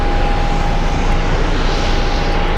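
An airplane roars steadily overhead at Sky Harbor International Airport, a loud, continuous engine rumble with a faint high whine.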